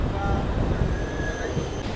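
Howrah–Digha local train rolling along after leaving Tikiapara station, a steady close rumble of carriage noise with faint wheel squeal lines, continuous and loud throughout.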